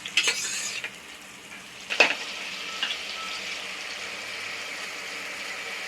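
Finely chopped onions fry in hot oil for a mutton curry, giving a steady soft sizzle with a few louder bursts of stirring and spatula scrapes near the start, close by and without talk.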